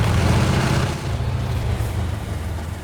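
Big diesel engine of a T-72 tank on the move in the Squad video game, a loud, steady low rumble with heavy broadband roar that holds throughout without a break.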